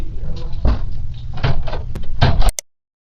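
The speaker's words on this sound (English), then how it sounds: "Just as the door closes" Door in an interrogation room swings and bangs shut with a firm thud, preceded by muffled shuffling and rustling, then a short clatter of the latch before abrupt silence.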